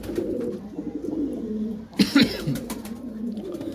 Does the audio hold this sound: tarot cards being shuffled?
no